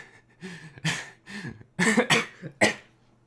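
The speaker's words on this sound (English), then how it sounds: "excuse my coughing." Several close, harsh coughs in an uneven series, some spluttering and throaty, with brief pauses between bursts.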